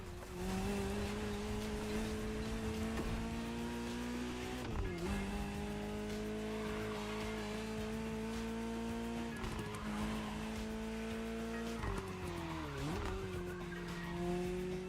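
A Ferrari 308 GTS in the racing game The Crew Motorfest drives steadily with a constant engine drone, and its tires squeal and skid through several corners over about fifteen seconds.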